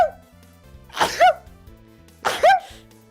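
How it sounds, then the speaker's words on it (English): Two sneezes from one person, each a sharp close burst with a brief voiced tail, about a second and a half apart, over quiet background music. "I'm gonna sneeze."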